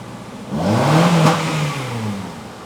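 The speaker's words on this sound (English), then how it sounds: "Rev it hard." A Honda CR-V with major engine power loss and a P0507 fault revs up once, rising and then easing back down in a single close, brief throttle sweep.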